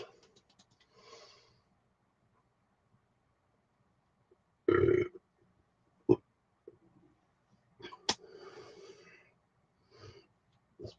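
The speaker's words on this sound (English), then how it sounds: "More burps." A person lets out several close, loud burps in separate bursts, with a longer gurgling belch followed by shorter ones and quiet pauses and breaths in between.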